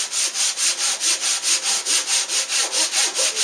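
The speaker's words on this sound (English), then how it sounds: "I'm going to try using a piece of plywood here on the back side of the saw as opposed to my fingers" A hand saw cuts with a sheet of plywood pressed against its back, making a close, even rasping stroke about four times a second, each push and pull a gritty swish repeated steadily with no talk.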